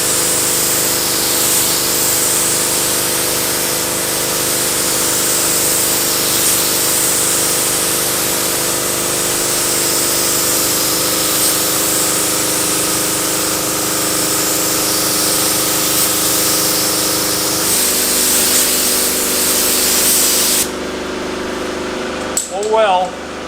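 A spray gun or aerosol hisses steadily as lacquer paint goes onto an abandoned Pontiac, a long continuous close spray that cuts off near the end.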